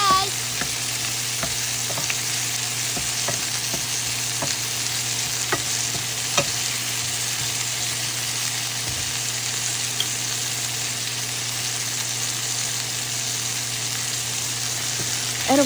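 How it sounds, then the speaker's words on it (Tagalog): Lemongrass sizzles steadily in a hot pan as it is sautéed for chicken tinola, a constant frying hiss with faint scattered clicks from stirring and no talking. "huwag natin kalimutan isutay din yung tanglad para lalabas ng advance yung aroma niya"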